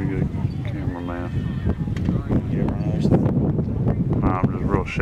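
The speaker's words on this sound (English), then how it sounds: "And windy too." Wind buffeting a handheld camera microphone outdoors at spring horse trials, low rumbling gusts churning continuously while people talk nearby throughout.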